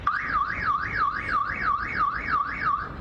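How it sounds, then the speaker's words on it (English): An NYPD patrol robot sounds its alarm, a loud rising and falling electronic wail that repeats steadily and quickly, with no other sound over it. "Not only does this robot sound an alarm"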